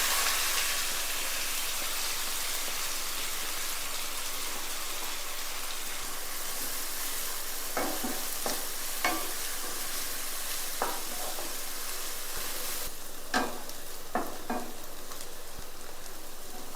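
Three medium chopped onions fry in oil in a kadai, giving a steady soft sizzle throughout, with a few sharp clinks of a spoon against the pan in the second half.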